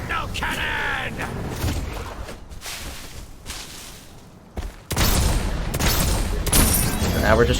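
A shrapnel cannon fires in the online battle game Paragon: The Overprime, loud booming bursts and crackling blasts that drop off midway and then return in a heavier barrage.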